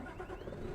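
A truck engine in Euro Truck Simulator 2 starts and rumbles low and steady for a brief moment, a deep mechanical hum with no voices.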